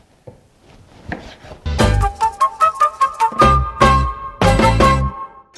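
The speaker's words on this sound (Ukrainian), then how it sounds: "я далі щоки ріжу." A knife chops repeatedly through pork cheek on a board, a run of distinct thuds in steady rhythm, close and fairly loud, with pauses between bursts.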